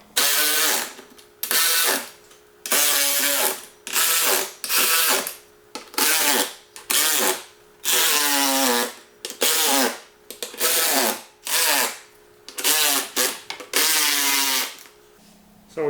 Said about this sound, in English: We're going to tighten all the rest of the bolts that we've left loose.